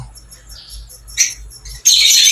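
Caged opaline birds at the Obando pet market give sharp squawks and chirps in short, irregular bursts, with a louder burst of chatter at the end and faint flutter in between.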